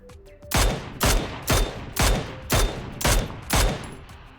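Seven sharp gunshots fire in an even rhythm, each with a short decaying tail, PUBG game gunfire at moderate volume.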